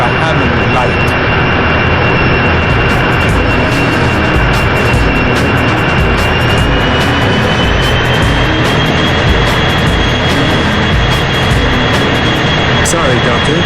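Jet plane roaring steadily at close range in the PS1 game 007 Racing, a loud continuous engine whine with a rising tone, with speech over it.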